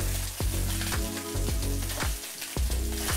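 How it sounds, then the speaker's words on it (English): Cod fillets pan-seared skin side down over medium heat, alongside oyster mushrooms frying, give off a continuous loud sizzle broken by several rhythmic scraping stirs, with no voices. "As you can see, I'm also frying some oyster mushrooms for a garnish."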